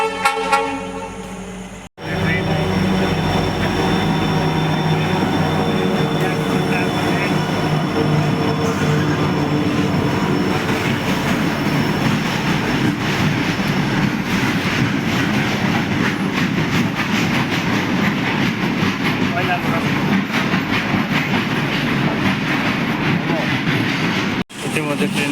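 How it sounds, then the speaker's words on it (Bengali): A long goods train rolls past a roadside check gate, close and loud, its rumbling wheels and clattering wagons forming a continuous roar for over twenty seconds. "ইতিমধ্যে ট্রেন দেন কীভাবে যায়, মালগাড়ি এটা"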